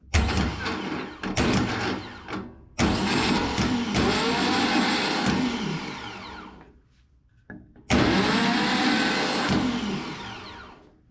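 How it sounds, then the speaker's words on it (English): Car starter motor bench tested with a piece of timber pressed against its spinning gear, giving loud bursts of harsh whirring and grinding that stop and restart, a long run fading out, then a final strong burst. "just grab your bit of timber, start your starter motor"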